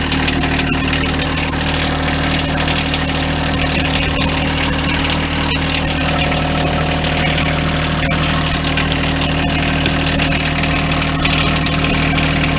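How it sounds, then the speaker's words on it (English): A John Deere 4x4 tractor's diesel engine idles steadily while warming up, a loud, even rumble with constant vibration throughout and no talk. "Let's warm up this engine."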